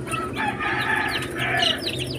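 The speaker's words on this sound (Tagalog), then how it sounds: "Ito yung ating mga bagong pisang Rhode Island." Newly hatched free-range Rhode Island Red chicks cheep in continuous high, overlapping chirps, close by, over a low steady background hum.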